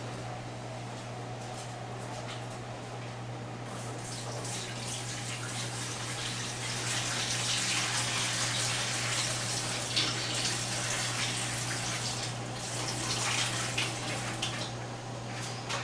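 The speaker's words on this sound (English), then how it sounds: "Got to drain the water off these potatoes." Water from a pot of boiled potatoes pours steadily into a sink while making potato leek soup, a continuous rushing splash with a low hum underneath, no talking.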